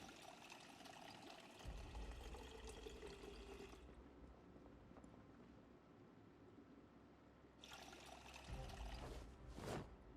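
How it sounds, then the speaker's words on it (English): Water pours into a water bottle in the zombie survival game Project Zomboid, a steady hissing fill that runs through the whole stretch with louder bursts at the start and end. "Let me top off my water bottle."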